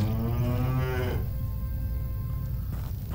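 A cow in the farming video game Animallica lets out a long, loud, low moo, which cuts off after about a second and leaves steady game background noise.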